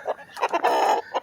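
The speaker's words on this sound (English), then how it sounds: "let chickens out" Farmyard chickens cluck as they are let out, a quick burst of several close, loud clucks and squawks.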